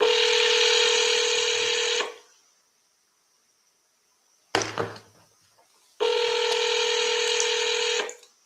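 Telephone call tones on a phone line, with two long steady ringback buzzes separated by a silent gap and a short click, loud and close, with no speech.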